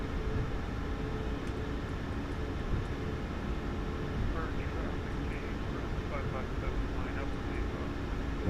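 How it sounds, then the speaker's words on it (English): Boeing 737 MAX 8 taxiing in Microsoft Flight Simulator 2024: a constant low engine drone and broadband hum holds steady throughout, with someone talking over it. "A little bit of a long taxi all the way down to the runway"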